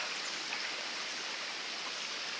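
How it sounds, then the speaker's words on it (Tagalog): A flooded river in Nasugbu rushes past during a typhoon, giving a steady, dense wash of moving water that stays even and close throughout with no break. "Yan ang ilog namin dito sa Nasugbo."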